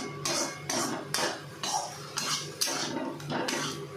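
Rhythmic metal scraping and clanking of a spatula against a wok while frying spice paste, about eight strokes in steady succession, close and fairly loud.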